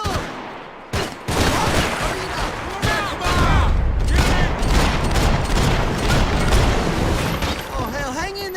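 Loud, sustained video-game gunfire with heavy booms and rapid shots nearly throughout, while players shout over the chaotic battle.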